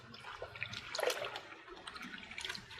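Potato slices are mixed by hand in cold salted water, giving soft, faint sloshing and dripping splashes in irregular bursts, close but quiet, with no voices.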